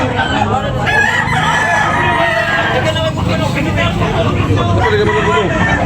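A rooster crows repeatedly at a busy chicken market, loud and near, over a backdrop of clucking fowl, crowd babble and people talking.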